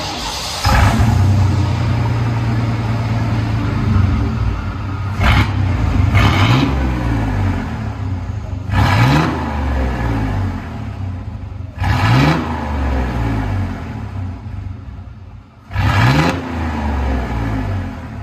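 1995 Chevy 1500 with a 4.3L V6 and a bottle resonator exhaust, revved repeatedly: loud close engine drone rising and falling in about five throttle blips, each surging then dropping back to idle.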